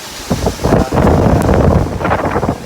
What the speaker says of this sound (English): The wind just got drastically colder.